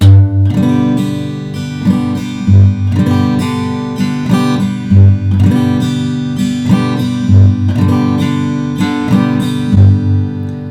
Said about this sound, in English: a basic Calypso pattern